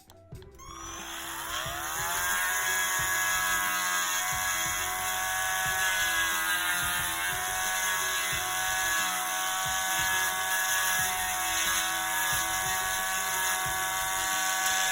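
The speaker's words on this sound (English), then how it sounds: "And I'm also sanding around here just a little bit" A steady high-pitched motorized whine runs continuously after a brief spin-up, a small rotary tool sanding a plastic 1:4 scale figure part at close range.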